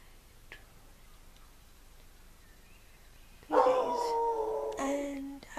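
A dog bursts into a loud, drawn-out howling bark with wavering yips after several seconds of near quiet indoors, continuing close by until the end.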